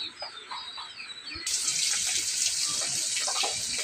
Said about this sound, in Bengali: আমি তরকারিগুলো কেটে ধুয়ে নিচ্ছি, চাল ডাল ধুয়ে নিচ্ছি।